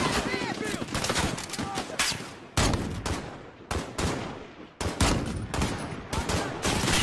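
Loud, sustained machine-gun fire in Call of Duty: Modern Warfare (2019), long rattling bursts broken by a few short gaps, with a voice shouting over the shooting.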